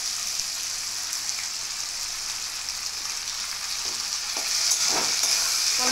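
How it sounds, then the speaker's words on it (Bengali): Ginger, cumin, tomato, chili powder and turmeric masala frying in a pan, a steady close sizzle throughout with a few stirring scrapes toward the end, no voices. "একটু লঙ্কার গুঁড়ো হালকা করে, একটু হলুদ গুঁড়ো দিয়ে দিয়েছি, দিয়ে মশলাটা কষিয়ে নেবো।"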